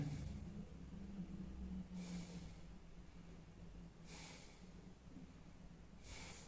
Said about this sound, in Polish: Oddychamy.